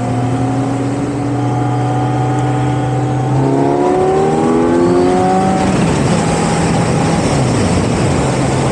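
A 2024 Kawasaki Z900 SE motorcycle engine heard while riding, loud and close, its tone climbing steadily as it revs through the gears, then shifting and settling again, with steady wind noise throughout.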